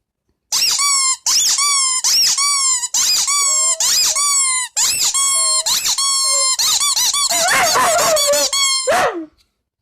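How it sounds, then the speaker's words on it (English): A squeaky dog toy is squeezed over and over, giving a long run of loud, close, high-pitched squeaks that come faster and more ragged toward the end before stopping. "This is his squeaky toy,"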